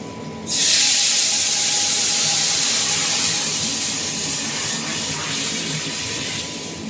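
Dal being tempered lets out a sudden loud hissing sizzle that surges at once and then holds as a steady, close steam-like roar, easing off slightly toward the end.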